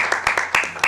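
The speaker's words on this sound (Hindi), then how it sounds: "ताली बजाओ यार" Sparse, uneven handclaps from an audience at a Bollywood film launch event, a handful of separate claps over under a second, fairly close and mixed with background voices.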